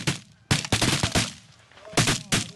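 Shotguns fire during a bird hunt in Texas, several loud sharp blasts in quick succession with short gaps between volleys.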